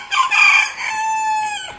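A rooster crows once from a rooftop, a loud, close, bright cock-a-doodle-doo with a broken opening and a long sustained final note that trails off.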